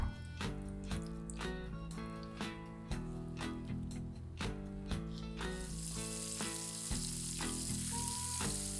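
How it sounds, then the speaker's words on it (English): Butter sizzles and crackles steadily in a hot pan, a constant frying hiss mixed with bubbling, under soft background music. "Melt 2 tablespoons of butter in a pan. Listen to that sizzle."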